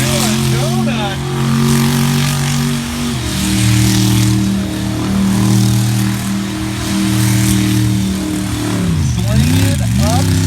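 Monster School Bus monster truck spinning a donut on dirt at a freestyle monster truck show, its big engine roaring loud and steady with pitch swings as it revs through the turn, crowd noise underneath.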